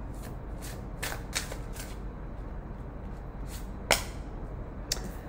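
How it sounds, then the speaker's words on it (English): Tarot cards are shuffled quietly at close range, with several soft riffling bursts and sharper card flicks spread over a low, steady background hiss. "Y'all saw me shuffle, right?"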